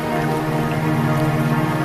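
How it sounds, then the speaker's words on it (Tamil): Steady rain falls as a close, dense, continuous hiss that stays even in loudness throughout, with no voices heard. "எங்கும் மழை பெய்கிறது"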